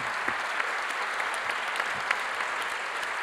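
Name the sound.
audience applauding for Jean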